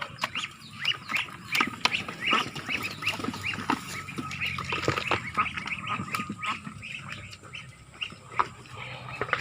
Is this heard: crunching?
no